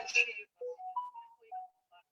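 A phone ringtone plays a short melodic run of clear electronic tones, preceded by a brief burst of noise, faint and alone without voices.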